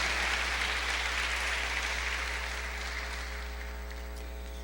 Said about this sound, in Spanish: ¿No le da un aplauso al Señor por esa palabra, por esa promesa?